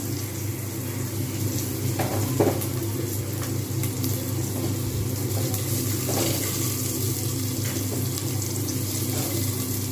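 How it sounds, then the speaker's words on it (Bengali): Chopped onions fry in a pan until browned, giving a loud, steady, close hiss with faint scattered crackles throughout and no voices. "যতক্ষণ পর্যন্ত না লাল হবে ততক্ষণ পর্যন্ত কিন্তু আমাকে এরকমভাবে ভেজে যেতেই হবে"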